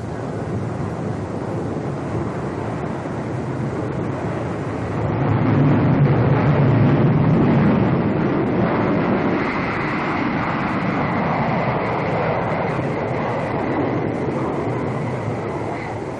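A loud, steady jet engine roar from a B-47 Stratojet at full throttle, with broadband rushing noise that swells partway through and holds, continuous and close, with no voices.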